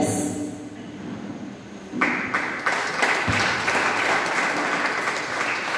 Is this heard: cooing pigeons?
no